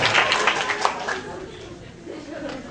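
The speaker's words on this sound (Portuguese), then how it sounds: "Pelas palmas do La Salle Dores" Auditorium audience clapping after a presentation at a La Salle school event, a burst of applause that fades quickly, with a voice speaking over it.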